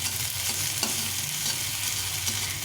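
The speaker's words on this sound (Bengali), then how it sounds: "এখন একটু এইগুলো ছড়িয়ে দিয়ে এই তেলের মধ্যে এই আদা থেঁতোটা দিয়ে দেবো।" Crushed ginger fries in hot oil with a steady, close sizzling hiss and a couple of faint utensil taps, without any talking.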